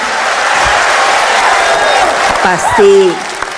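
A large crowd at a political speech in Indonesia breaks into applause and cheering, a loud wash of clapping with whoops, and a voice rising over it near the end.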